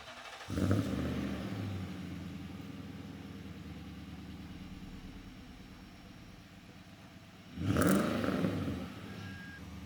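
Nissan Titan truck running on a dyno, a loud engine surge at the start, a long steady drone, then a second loud burst near the end.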